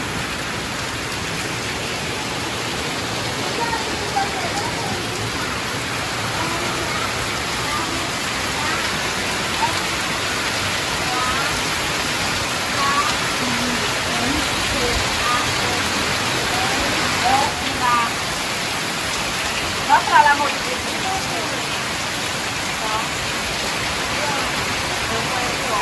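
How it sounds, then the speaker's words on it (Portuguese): Heavy rain pours outside after lunch, a steady, dense hiss of water drumming on surfaces that continues unbroken for the whole stretch. "olha essa chuva que tá caindo"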